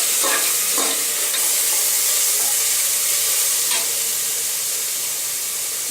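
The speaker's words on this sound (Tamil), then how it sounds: "இஞ்சி பூண்டு வாசனை போகிற வரைக்கும் நல்லா வேகட்டும்." Ginger garlic paste fries in a pan for prawn biryani, producing a loud, dense, steady hiss-like sizzle with a few faint stirring scrapes and no talking.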